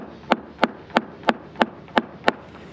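A hammer taps section by section along a fiberglass boat hull in a boat yard, checking for blisters: eight evenly spaced, sharp ringing knocks about a third of a second apart, close and clear.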